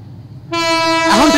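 A passing train sounds its horn: after a quiet rumble, a loud sustained blast cuts in sharply and holds, then warbles and bends in pitch as it goes by.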